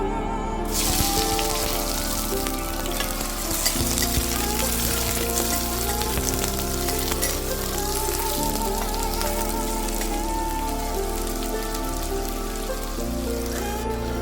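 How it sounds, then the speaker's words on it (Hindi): Onions dropped into hot oil in a pan for Maggi noodles sizzle and crackle in a steady, dense hiss that carries on without a break, with a low background hum beneath. "तेल अच्छे से गर्म हो गया है, इसमें ऑनियन डालेंगे अभी।"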